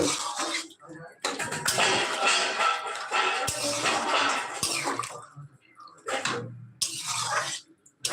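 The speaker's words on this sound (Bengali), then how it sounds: "উষ্ণ গরম জল দিয়ে দেবো তারপরে নেড়ে ছেড়ে নেব" Warm water poured into a pan of vegetarian soybean and potato curry, a steady splashing pour running under a person talking, with brief pauses and stirring sounds between.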